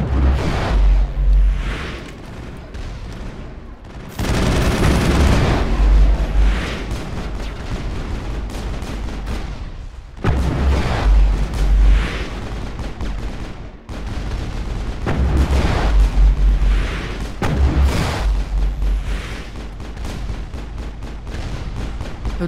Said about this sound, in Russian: Это какая-то бесполезная пушка.